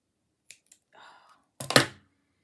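Scissors cutting paper for handmade card crafting: two small crisp snips, a brief papery rustle, then one louder crunching cut, all close by with no talking.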